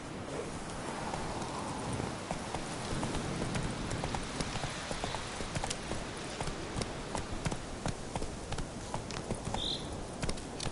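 Horse hooves clip-clop in The Witcher 3 as the mount is urged forward, a steady run of close, sharp hoof beats over a faint rain-like patter throughout.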